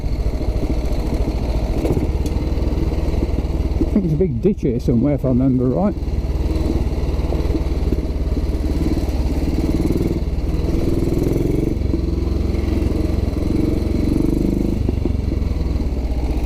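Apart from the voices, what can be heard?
1944 Ariel trials motorcycle engine running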